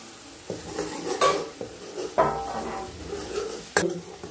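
Spices with coriander roast in oil in a pan over a wood-fired stove, with faint frying under several distinct clinks and scrapes of a spoon against the pan.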